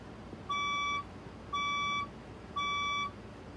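A fire alarm's evacuation tone sounds three times as evenly spaced, loud electronic beeps, each about half a second long with a bright, piercing pitch, over a quiet indoor background.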